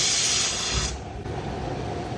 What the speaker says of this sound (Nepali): अब ओल चाहिँ तार्दैछु।